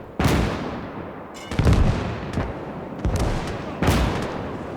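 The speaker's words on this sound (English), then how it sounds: "AT gun working." Anti-tank gun fire in the Gates of Hell game during the Battle of Summa on the Mannerheim Line: four heavy booming shots spaced about a second apart, each with a long rumbling decay.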